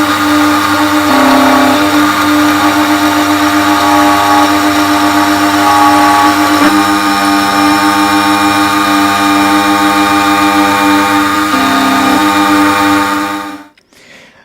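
A key cutting machine grinds a blade for an OEM GM flip key fob for a Chevrolet Cruze, making a loud, steady whine that runs for about thirteen seconds with slight shifts in pitch, then cuts off abruptly.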